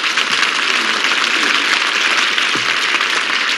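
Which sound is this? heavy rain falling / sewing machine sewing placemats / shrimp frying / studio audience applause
studio audience applause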